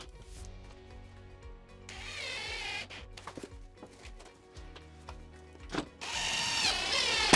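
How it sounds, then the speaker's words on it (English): A power drill drives cabinet screws while kitchen cabinets are installed, giving several short, close whirring bursts that whine up and stop, with thuds and handling noises between them. "and then put our cabinet screws in."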